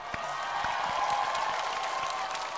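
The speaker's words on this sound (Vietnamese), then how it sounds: "Cho một tràng pháo tay thật lớn được không các bạn?" Studio audience at a Vietnamese singing show applauding a duet, a steady dense wash of clapping with faint voices mixed in, fairly even throughout.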